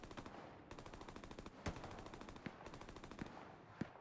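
Video game gunfire from players shooting at bushes: rapid automatic bursts rattling in steady rhythm with a few heavier single shots, fairly faint and distant.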